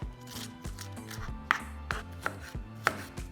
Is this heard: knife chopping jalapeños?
yes